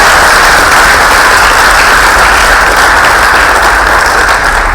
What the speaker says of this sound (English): Put your hands together for yourself.